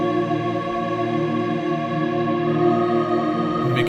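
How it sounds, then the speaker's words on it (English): Melodic techno synth pad washed in Valhalla Supermassive ambient reverb, a sustained, smeared chord drone that holds steady and alone, with no talk over it. "this is how it sounds with the Supermassive"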